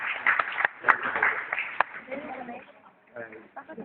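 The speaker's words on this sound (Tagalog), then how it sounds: "bigyan natin si Brianna Chloe ng masipang palakpak" A church congregation applauds a newly baptized child at a Filipino baptism: scattered claps, some sharp, mixed with murmuring voices and room noise, fading and thinning toward the end.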